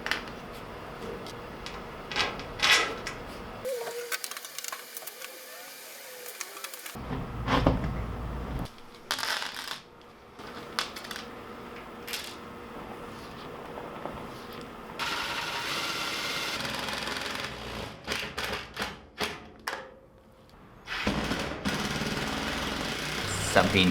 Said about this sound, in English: I'll secure the floor and the gasket with screws,